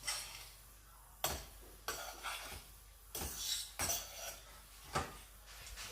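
Mussel and periwinkle meat mixed into a dish, a series of clattering scrapes and knocks of a utensil against the pot in uneven strokes, close but soft.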